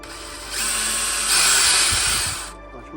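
A power drill bores holes in parts for a camera mount during a van build, with a loud close whine that rises in pitch mid-run, then winds down after about two seconds.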